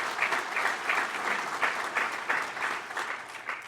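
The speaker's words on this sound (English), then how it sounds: "Let's give them a quick round of applause before we jump into it." Audience at a summit keynote giving the organizing team a round of applause, steady dense clapping from a mid-sized crowd in a hall, sustained without voices.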